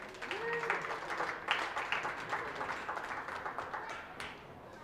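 A county goat show crowd claps for the placings, a moderate patter of applause in a large space with a voice briefly heard beneath it, tapering off at the end.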